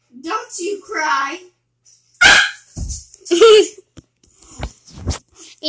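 A dog barks eagerly for his ball in a home, several sharp bursts alternating with a person talking, close and loud.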